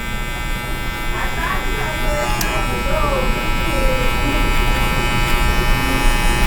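Electric hair clippers buzz steadily and close up throughout a hair fade, a continuous motorized hum with slight shifts as the lever is adjusted, with someone talking over it at moments.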